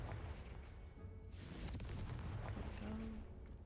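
A Confringo spell explodes in a wizarding video game: a loud, sudden blast bursts out over a dense, rumbling game soundscape, followed by lingering crackle and a short tonal hum.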